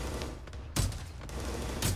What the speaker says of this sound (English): There's a couple of them out there shooting.